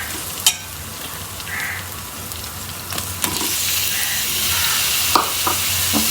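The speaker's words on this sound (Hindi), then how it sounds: "थोड़ा सा इसको भूनेंगे लहसुन अदरक को और फिर इसके अंदर हम अपने टमाटर ऐड कर देंगे।" Garlic and ginger paste frying in a pan, a steady close sizzle with occasional scrapes and clicks of a spoon stirring, and no voices.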